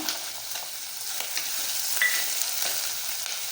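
Capsicum, potato, carrot, tomato and peas frying in a pan for masala rice, giving a steady, dense sizzle with faint stirring scrapes, close and fairly even throughout, no speech.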